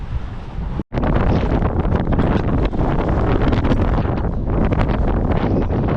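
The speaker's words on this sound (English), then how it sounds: "Wind is not fun" Strong wind gusts roar into the microphone on a dark night walk between Wadebridge and Newquay, loud and constant with a dense, rushing rumble, broken by one sudden drop near the start.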